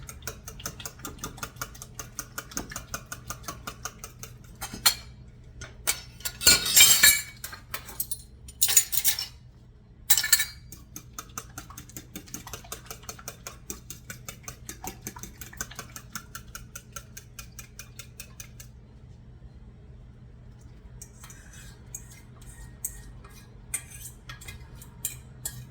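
A fork beats an egg and flour mixture in a bowl with quick, light tapping and scraping in a steady rhythm, close by, broken by a few louder clinks and short pauses.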